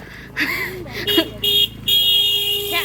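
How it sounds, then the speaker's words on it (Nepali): Several car horn blasts, short then longer and sustained, sounding over street noise with voices nearby. "कति हर्न बजाएको।"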